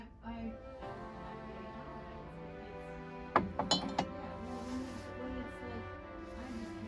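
Antique glass dishes with glass handles, the kind that nest together, clink in a quick cluster of sharp, bright taps midway through, over a soft steady background.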